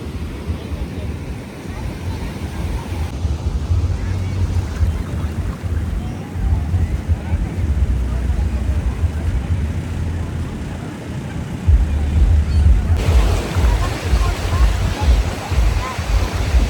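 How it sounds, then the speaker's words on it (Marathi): Sea waves at a beach in Goa, a steady broad wash of surf with wind buffeting the microphone throughout, the roar swelling louder near the end. "समुद्राचा तो आवाज आणि खरंच खूप छान वाटतं"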